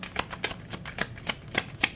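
Tarot cards shuffled by hand in a series of about eight quick, crisp riffling bursts spaced at a steady rhythm, close and fairly quiet, with no voices.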